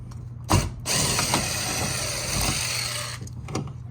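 A stripped screw being backed out of a fire alarm pull station during installation, a steady mechanical ratcheting whir that runs for about two and a half seconds after a sharp click, close and fairly loud.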